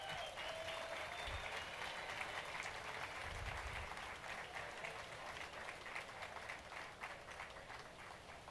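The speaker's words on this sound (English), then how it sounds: "Big round of applause for Team Brazil." Crowd applause for Team Brazil at a longboard surfing championship finals in El Salvador, a broad steady wash of clapping heard from a distance, faint but continuous, with low rumbling underneath.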